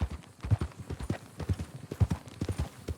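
Horse hooves clip-clop at a steady walking rhythm in the Red Dead Redemption 2 video game, clear and close, with a faint voice occasionally underneath.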